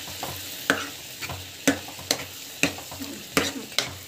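Chana dal being stirred and sautéed in a pan, heard as sharp, irregular scraping clicks of a spoon against the pan over a faint sizzle, fairly quiet with no talking.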